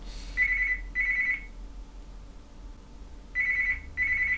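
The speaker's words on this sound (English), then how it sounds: "And the phone's ringing." Telephone ringing with classic bell-style trilling rings in two pairs of bursts separated by a pause, clear and moderately close over a low background hum.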